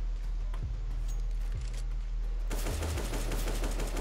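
Gunfire in Counter-Strike: Global Offensive zombie mode, a few sharp single shots early on, then a denser burst of rapid firing toward the end over a steady low game hum.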